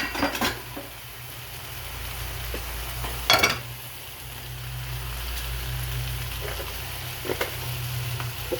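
Vegan egg foo young with green sprouts frying in a pan, a steady soft sizzle broken by a few clinks and scrapes of a utensil against the pan.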